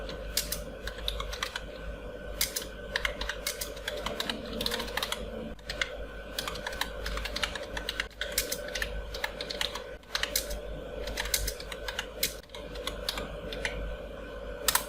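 Fingers type on a computer keyboard while entering text in MS Word, a continuous stream of close, crisp key clicks with uneven rhythm and occasional heavier strokes, with faint room noise behind.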